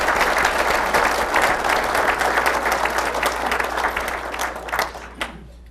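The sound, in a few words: audience applause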